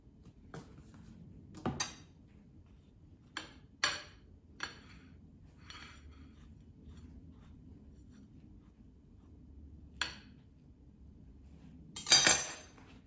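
A knife spreads mustard over sandwich bread in a quiet kitchen, with sparse scrapes and light clinks separated by near silence and a louder scraping burst near the end.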